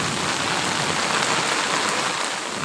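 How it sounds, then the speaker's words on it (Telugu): Heavy rain pours down steadily with a dense, even hiss of drops hitting surfaces, continuous and fairly loud throughout with no voices. "వర్షం వర్షం పెద్దది పడుతుంది"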